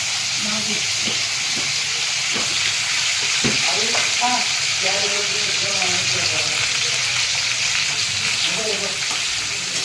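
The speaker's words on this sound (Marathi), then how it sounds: "आणि आता कढई जरा तापूया आणि तेलमध्ये आपण पनीर फ्राय करूया" Paneer cubes sizzle in hot oil in a wok, a loud, steady hiss throughout with intermittent clinks and scraping as the pieces are stirred.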